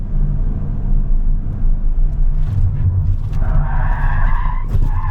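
A BMW Z3 with sport suspension makes a test pass at 73 km/h, its engine rumbling steadily throughout, with a tire skid or squeal rising near the end, close and loud with no talking.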